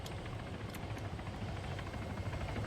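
Helicopter in the video game Arma 3, a dense continuous rotor chop and engine whine, loud and steady throughout the short stretch with no talking.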